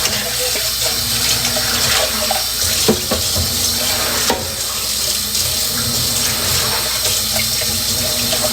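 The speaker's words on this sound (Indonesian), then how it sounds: "Cuci baju pagi-pagi, coba liatin." Water runs steadily, the way a tap runs while clothes are washed in the morning, with scattered clinks and splashes over the flow and no talking.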